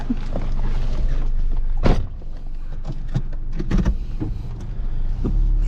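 A car drives up toward a volcanic crater in Buriram with a steady low engine rumble inside the cabin. Occasional soft clunks and rattles sound over it, with no one talking.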